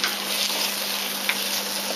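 Shallots frying in butter for a coq au vin, giving a steady, close sizzle with light crackles that holds at an even level throughout.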